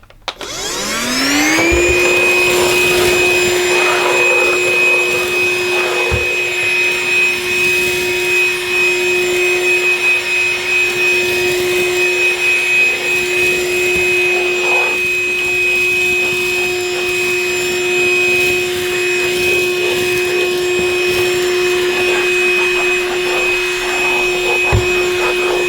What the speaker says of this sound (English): I'm going to use the vacuum on the minimum suction, just really to see how well it performs